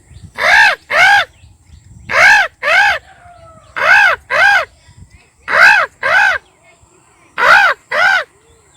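A man imitates a crow perched on a tree branch, giving loud, close caws in quick pairs, four double calls evenly spaced with brief quiet gaps between them.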